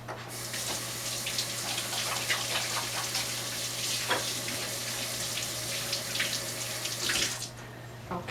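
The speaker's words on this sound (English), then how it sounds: "then I'm going to rinse my hands here" Running water from a sink tap pours steadily as hands are rinsed beneath it, a continuous close splashing wash with a faint low hum underneath, stopping just before the end.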